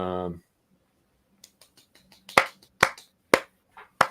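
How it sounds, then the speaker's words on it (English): After a short spoken word, a few hands begin a slow, sparse golf clap: soft, isolated pats that grow into several sharper, evenly spaced claps close by. "Golf clap"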